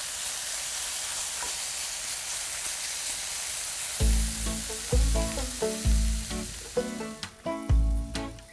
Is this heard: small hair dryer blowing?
no